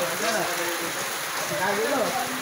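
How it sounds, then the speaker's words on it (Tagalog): Steady rain hisses across the whole clip, loud and close, with speech-like tonal voices running over it throughout. "Ulan pa rin."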